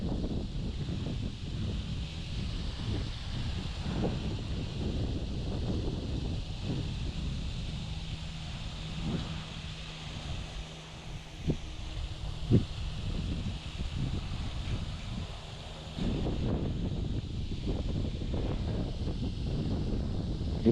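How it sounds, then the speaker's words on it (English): Wind blows steadily at a pond during bass fishing, a continuous rumbling buffet across the microphone with gusts rising and easing, fairly loud throughout and with no talking. "Oh, wind blowing pretty good."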